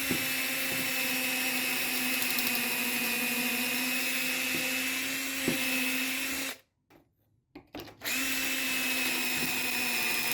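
Power drill boring angled pocket holes into wood through a Kreg jig, a steady loud whine running several seconds, cutting out abruptly, then resuming after a short pause.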